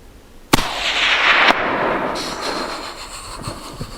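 Rifle shots during a bull moose hunt in Newfoundland: a loud sharp report followed a second later by another, then a long rolling echo that fades across open country.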